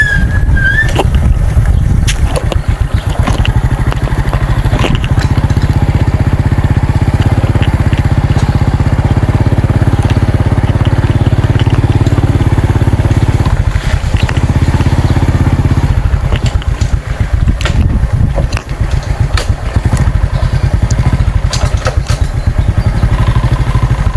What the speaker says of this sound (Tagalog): Ngayon naman yung dala ko yung motor.